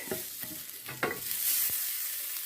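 Bread dough fries in a pan on a stovetop, giving a soft, steady sizzle with a few scraping stirs or pokes near the start, close and fairly quiet.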